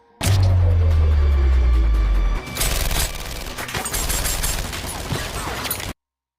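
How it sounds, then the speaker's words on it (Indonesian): Gunfire in a film scene as three men shoot wildly: dense rapid bursts over a deep rumbling boom, then a continuing rattle of shots with mechanical clatter, loud and close, before it cuts to silence. "tiba-tiba muncul 3 pria melepaskan tembakan secara membabi buta"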